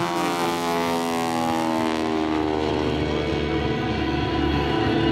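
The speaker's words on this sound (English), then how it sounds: "Now Gene will come back and loop over the top, but after 5/8 of a loop, he'll roll the airplane upright" Propeller airplane with a continuous loud engine drone and whining harmonics that shift in pitch as it flies an aerobatic loop and roll at an air show, with no other sound over it.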